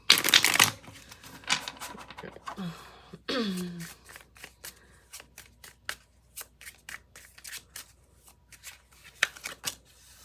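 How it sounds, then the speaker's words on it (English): Tarot cards being shuffled: a loud riffle at the start, then a long run of crisp slaps and flicks as the cards are worked by hand. "I'm giving it a shuffle."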